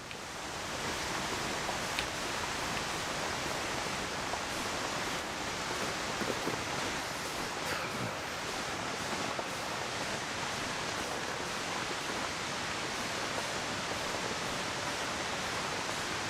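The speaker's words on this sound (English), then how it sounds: "It's got to be a waterfall. It can't be a fire" A waterfall in The Long Dark, heard as a steady, even rush of water that holds at the same level from start to finish, with no voices over it.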